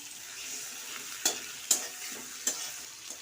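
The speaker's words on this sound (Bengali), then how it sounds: "পেঁয়াজটা একটু সেঁতলে নেবো" Onions sizzle in a hot pan with ginger, ground coriander and cumin, Kashmiri chili powder, turmeric, salt and sugar, a steady frying hiss broken by three or four sharp scraping stirs of a spatula.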